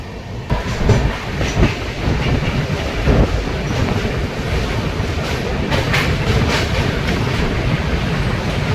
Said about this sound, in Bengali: আমাদের ট্রেন এখন সরাইঘাট ব্রিজ পার করছে, এটা রেলকাম রোড ব্রিজ।